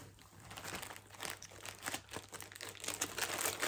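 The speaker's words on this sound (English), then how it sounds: "I'm going to talk over the crinkling" Crinkling plastic or paper rustles close up in irregular bursts of crackle, fairly quiet and with no talking.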